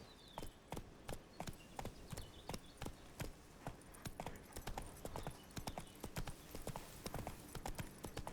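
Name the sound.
horse galloping hooves, from video game The Witcher 3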